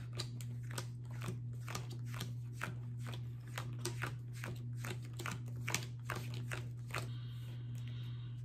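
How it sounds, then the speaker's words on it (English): Pokémon TCG card decks being shuffled on a table give a quick, steady run of crisp riffling clicks, close and fairly quiet, with no talking. "Now we're going to shuffle our decks."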